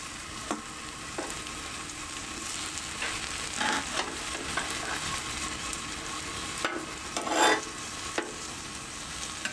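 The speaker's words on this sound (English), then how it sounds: "We can take our artisan bun here and we're going to get that toasting away." An artisan bun toasts on a Blackstone griddle, giving a steady close sizzle with light scraping and occasional clinks of a metal spatula; no one speaks.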